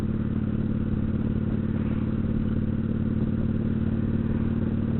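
Kawasaki Vulcan 900 Classic LT motorcycle, a high-revving five-speed cruiser, heard while riding: a steady, loud engine drone with a rapid throbbing pulse and road rumble, no voices.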